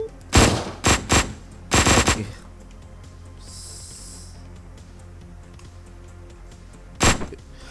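Shotgun blasts from the top-down action game Hotline Miami 2 come as a quick burst of four loud, booming shots, then a pause with a faint electronic whine, and one final blast near the end.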